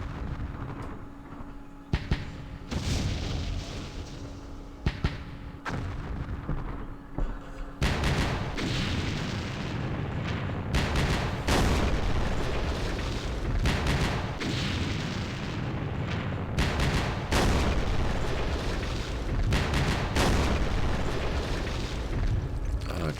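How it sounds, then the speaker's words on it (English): Artillery fire in a Vietnam war strategy game set around Dien Bien Phu: repeated heavy booms and blasts, several sharp onsets with dense rumbling explosions filling most of the stretch, loud and close. "What we really need is for them artillery to miss."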